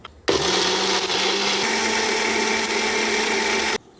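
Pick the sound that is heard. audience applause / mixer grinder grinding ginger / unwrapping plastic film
mixer grinder grinding ginger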